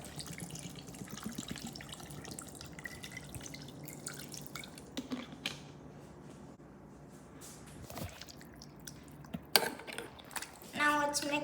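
Water poured onto mutton seasoned with turmeric and salt in a pressure cooker, with close dripping and splashing and a few light utensil clinks near the end.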